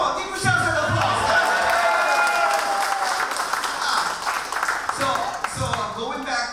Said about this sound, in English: Come on, give yourselves an applause.